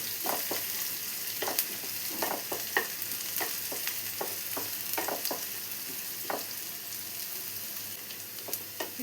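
Chopped shallots frying and being stirred in a pan for prawn curry, a steady sizzle broken by repeated soft scraping strokes of a spoon, close and alone.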